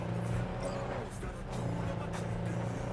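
A truck driving in Cyberpunk 2077, compared to a Bronco or Ford Raptor, with a steady low engine drone and tyre rumble that holds at a constant level throughout.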